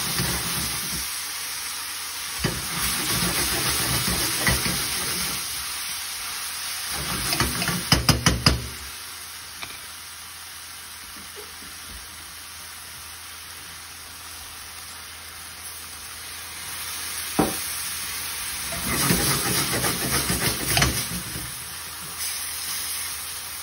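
Peppered beef stir fry sizzles in a pan in bursts, with knocks and clatter of stirring between quieter stretches.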